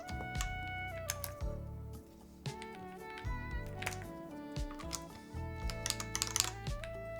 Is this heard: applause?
no